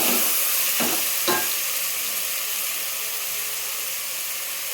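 Tomatoes frying in a pan with a little salt for Karnataka-style tomato rice bath, a steady close sizzle with a couple of quick stirring scrapes near the start, no talking.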